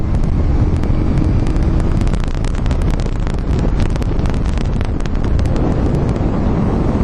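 An Indian Scout Bobber motorcycle pulls hard at full throttle, its engine roar loud and steady throughout, heavily buffeted by wind rushing over the microphone at speed.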